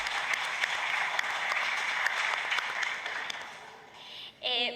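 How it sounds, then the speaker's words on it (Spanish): A conference audience applauds the Sintra UDA union, dense steady clapping that fills the room, thins out near the end, and gives way to a voice. "Y un aplauso para Sintra UDA."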